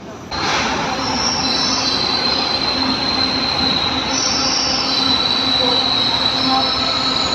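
A light rail train rolls past loudly and steadily, with a high metallic wheel squeal riding over the rumble throughout.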